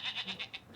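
An electric sheep toy letting out a rapid, wavering bleat, a quick pulsing series of nasal tones lasting under a second, close and moderately loud.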